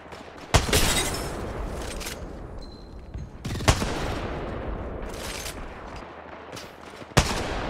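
Kraber sniper rifle shots in a video game: three or four single loud cracks spaced a few seconds apart, each followed by a rumbling tail, over a steady background of distant game noise.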